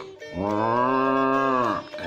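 A person imitates a water buffalo's call, giving one long, loud, drawn-out lowing moo that holds steady before trailing off.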